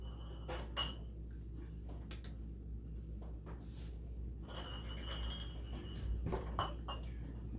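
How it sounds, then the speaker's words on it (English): Hot glass canning jars of chow-chow relish being lifted out with a few sharp clinks and knocks of glass and metal, faint and sparse over a low steady hum in a home kitchen. "We're going to start taking our jars out."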